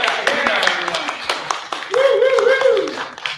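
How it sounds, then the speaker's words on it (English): A live show crowd claps in scattered, uneven bursts, while voices talk and a sustained tone rises over the claps partway through. "Round of applause for all that"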